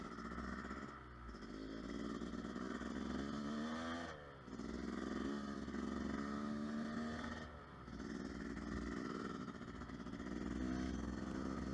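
A Yamaha YZ250 dirt bike rides along a wooded road on a warm day, with a two-stroke engine droning steadily close by, slight dips in throttle and wind noise, and no speech.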